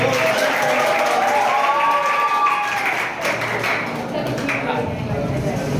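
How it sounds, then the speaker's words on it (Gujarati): A seminar audience claps for students in a room, a dense, steady patter of hands that mixes with a voice speaking over it. "એના માટે જોરદાર તાળીઓ પાડી દો"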